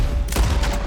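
Gunfire in Red Dead Redemption 2 during a wagon shootout: a short burst of several sharp, loud shots fired close together over a steady background rumble.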